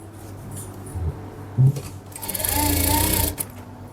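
A sewing machine stitches the neckline of a suit. Faint handling clicks and a short knock come first, then a close, fast, whirring run of stitching lasts about a second before stopping.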